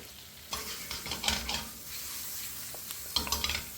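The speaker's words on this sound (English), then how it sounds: "So half the onions are going into the pan" Onions cooking in a pan for a tomato and smoked paprika soup sizzle softly and steadily, with a few scraping stirs of a utensil against the pan and no talking.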